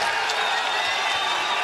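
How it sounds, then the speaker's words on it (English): A live arena crowd at a Bas Rutten versus Kevin Randleman fight roars loudly and steadily in reaction to the action, a dense wash of cheering voices. "The crowd reacts to Kevin Randleman's aggressiveness."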